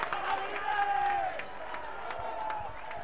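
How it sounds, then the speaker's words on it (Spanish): A football stadium crowd during a Deportes Linares versus Brujas de Salamanca match applauds in a broad, distant wash of clapping and crowd noise, while a commentator's voice runs over it. "Aquí te está aplaudiendo, está viendo cómo llega."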